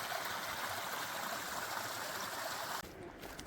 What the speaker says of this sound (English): lots of water running through here